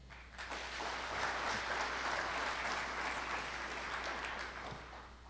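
An audience at a symposium applauds steadily to welcome speaker Peter King, a dense, even wash of clapping hands that swells quickly and holds for several seconds.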